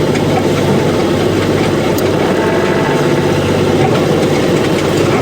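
A sailboat's inboard engine runs under bare poles in rough weather, with sails dropped, on a passage from Tunisia to Sicily. The drone is loud, constant and low, and wind and sea noise mix in with no talk.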